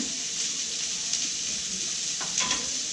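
Pancetta, carrots and green onion sizzle in olive oil in a pan, a soft, even frying hiss with faint stirring touches and no talk.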